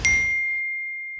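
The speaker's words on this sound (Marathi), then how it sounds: "आणि तितक्यात एक मेसेज आला" A single bright notification ding, a clean metallic chime of a phone message alert, rings out alone and decays slowly over about a second in quiet surroundings.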